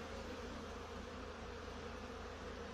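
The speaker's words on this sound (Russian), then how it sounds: "Облет пчел после долгой непогоды." Honeybees swarm out of the hive in a mass flight after a long spell of cold, bad weather, producing a steady, dense buzzing hum that holds evenly throughout, close and continuous with no talking.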